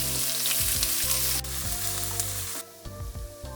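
Vegetables and onion fry in a pan with a loud, close sizzle and repeated stirring scrapes of a spoon. The sizzle drops partway through, leaving lighter crackling and scraping with no talk.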